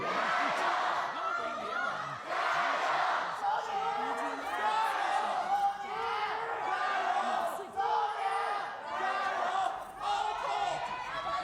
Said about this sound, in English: Let's hear those Jar yells